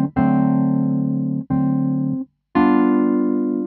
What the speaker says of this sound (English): Then when we play them as full dominant seventh chords, they sound like this.